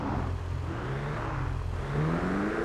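Ferrari F8 Tributo engine in GTA 5, a steady mid-pitched drone that rises in pitch near the end as it revs, with no speech.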